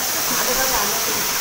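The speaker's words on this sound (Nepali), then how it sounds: "यो चाहिँ सानो झरना" A small waterfall of cold water, a steady close rushing hiss with voices talking over it.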